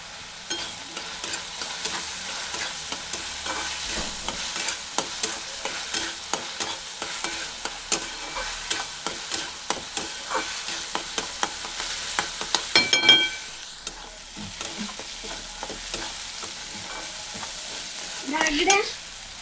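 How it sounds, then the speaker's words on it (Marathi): Chana dal and onion roasting together with a little salt in a pan for a kartoli vegetable dish, a constant crackling sizzle punctuated by regular rhythmic spatula strokes, close and clear, with a brief pause and a few louder scrapes near the end. "आता ती डाळ सुद्धा कांद्यासोबत छान अशी आपण भाजून घेऊया"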